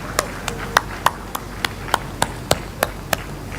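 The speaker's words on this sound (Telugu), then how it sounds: "చప్పట్లతో ధన్యవాదాలు తెలియజేసుకోవాలని కోరుకుంటా ఉన్నాను" Sparse, slow, evenly spaced hand claps, around a dozen sharp separate smacks rather than a full crowd ovation, from the audience at a Mahanadu party gathering in Kadapa; no talking.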